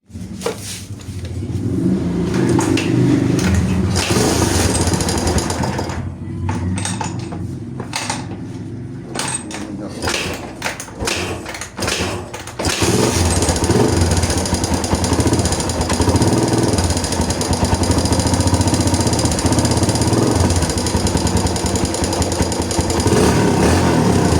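Barako 175 motorcycle engine with a noisy top end running nearby, a loud rattling, clattering idle with uneven revving that dips briefly mid-way before settling back to a steady rough run.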